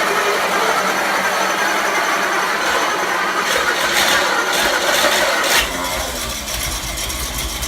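Engine in a garage cranking on the starter, a loud rapid whirring and rattling churn for about five seconds that then drops to a lower, steadier mechanical hum.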